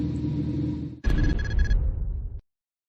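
A car engine idles with an added custom exhaust sound profile from a Kufatec Sound Booster, a steady low rumble that shifts to a rougher, louder note partway through, then cuts off abruptly into silence.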